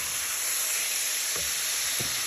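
Chicken pieces sizzle in a pan for Spanish chicken, a dense steady frying hiss with two brief scraping stirs near the end, close and continuous, no talking.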